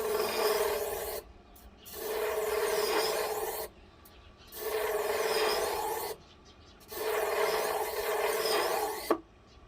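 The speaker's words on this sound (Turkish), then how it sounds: "Buna da elmasla ağzında kalan olası çapakları da burada ne yapmış oluyoruz? Almış oluyoruz." A knife blade honed with a diamond to strip burrs on an RS75 sharpening machine, heard as four long, loud abrasive rasping passes of a second or two each, separated by short silences, close up.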